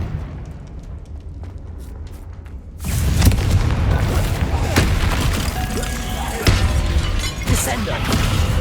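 A Confringo fire spell explodes in Hogwarts Legacy, a sudden heavy boom that gives way to a sustained loud crackling, rumbling roar with scattered bursts.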